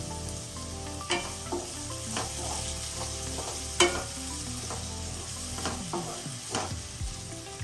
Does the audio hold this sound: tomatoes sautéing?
yes